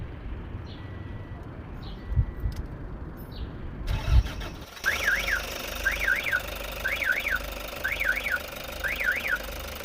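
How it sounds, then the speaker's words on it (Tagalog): A Toyota Hi-Ace 1KD diesel engine after repair is cranked and started, then settles into a steady idle with a rhythmic, repeating mechanical chirp over the low rumble. "Start natin para parinig yung pagkakaiba"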